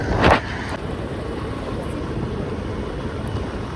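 A car moving through heavy road traffic, a steady broadband rumble of engine and road noise from inside the vehicle with a brief louder swell near the start.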